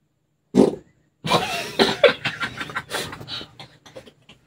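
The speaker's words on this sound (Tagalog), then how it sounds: "Ayan guys, nautot ako." Indoors in a bedroom, a short fart pops out, followed after a pause by a longer, rougher sputtering run of fart sounds that fades away, close to the microphone with no talk.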